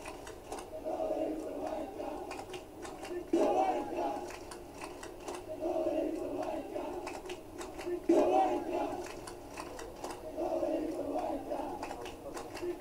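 Australian cricket fans in a stadium crowd clapping in rhythm and chanting "Gavaskar" at Virat Kohli, a repeated swelling group chant with steady claps, moderately distant.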